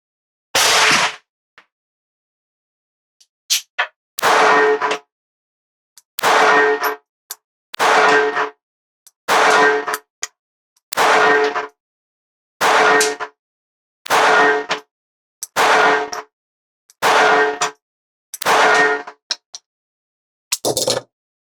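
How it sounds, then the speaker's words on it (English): Ten slow, evenly spaced shots from a Ruger Mark IV 22/45 left-hand 3-inch target pistol, each a sharp crack with a ringing clang of steel targets, separated by quiet pauses of about two seconds. "10 slow measured shots."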